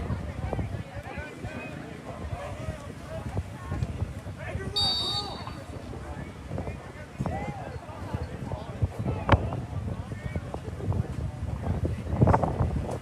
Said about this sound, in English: It's a very, very windy night